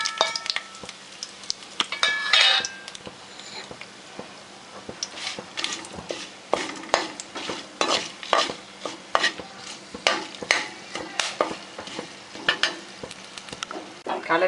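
Whole spices (bay leaf, cinnamon, cloves and cardamom) sizzle in two spoons of hot oil for vegetable korma, with a steady fry under frequent sharp scraping strokes of a spoon stirring the pan.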